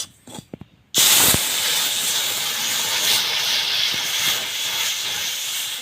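Water is poured into a pan of ghee-fried semolina and sets off a sudden loud burst of hissing steam that stays strong and steady after a few quiet knocks and clatters at the start.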